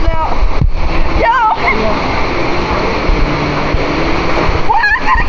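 Water splashes and rushes at an outdoor water slide in Orlando, Florida, a loud broadband wash with spray, while someone talks excitedly over it.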